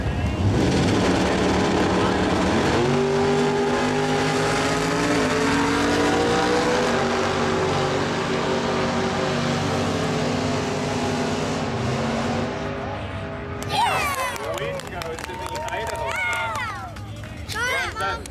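Pickup truck engine racing on a AAA-class circle track, a loud continuous roar with rising harmonics for about twelve seconds, then cutting to cheering crowd noise and an announcer talking.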